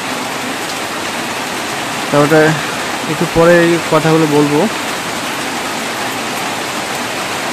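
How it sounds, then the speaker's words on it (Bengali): Steady rain pours down in a dense, even wash of noise throughout, close and loud, while someone briefly speaks over it midway. "বৃষ্টির যে সাউন্ডটা আমার কাছে সেই সুন্দর লাগে, এত সুন্দর বৃষ্টির সাউন্ড"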